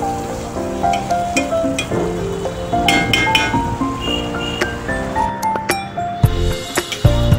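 Meat goes into a small pot and fries in a home kitchen, alongside potatoes and papaya. A steady sizzle runs with occasional clinks of utensil on pot, close and fairly loud, with no talking.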